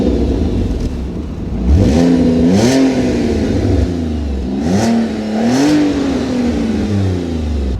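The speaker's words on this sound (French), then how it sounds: "Voilà le joli V6 Busso en action." An Alfa Romeo 147 GTA's V6 Busso engine revs up close, two rising-and-falling throttle blips over a steady idle, loud and alone without voices.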